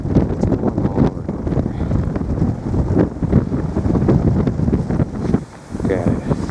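Strong wind storm blowing snow along the Thunder Bay River at a dam in Alpena, Michigan, a loud, continuous buffeting roar of gusts hitting the microphone, with a voice faintly under it.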